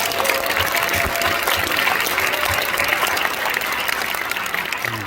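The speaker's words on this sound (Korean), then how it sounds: "저를 보시고 박수로 한번 경례하겠습니다." Loud, sustained clapping from a congregation in a large church auditorium during an installation thanksgiving service, a thick continuous wash of hands that fills the room with no speech over it.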